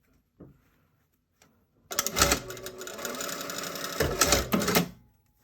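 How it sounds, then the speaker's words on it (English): A sewing machine stitches a short seam on a classic shirt cuff, two brief taps and then a steady close mechanical chatter for about three seconds that surges near the end before stopping. "now I'm just going to sew this short section with my seam allowance"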